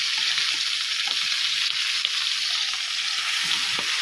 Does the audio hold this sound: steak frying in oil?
yes